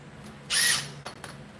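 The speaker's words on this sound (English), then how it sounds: "I'm going to get back to drilling a hole." A short burst of a power drill drilling a hole in a 2000 Chevy dually truck project, whirring for about a third of a second, followed by two brief clicks, close by with no talking.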